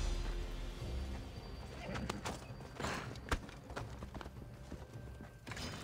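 A horse neighs and whinnies with clip-clopping hooves in Assassin's Creed Odyssey, a steady game soundscape with a sharp whinny near the middle and hoofbeats throughout.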